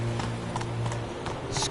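Hooves of Roach, a horse in the video game The Witcher 3, beat in a quick, rhythmic clip-clop over a low steady background hum.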